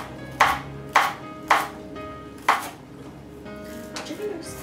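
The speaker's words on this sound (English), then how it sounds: "now I'm going to go ahead and cut up my shallot" A knife chops a shallot on a cutting board for cauliflower, leek and shallot soup: four crisp, evenly spaced chops close up, followed by lighter scraping taps, with quiet kitchen ambience between strokes.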